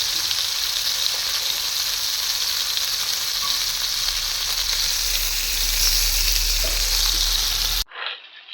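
Chicken pieces fry in hot oil with a steady, dense sizzle that holds loud and close for about eight seconds, then stops abruptly, leaving a faint brief rustle.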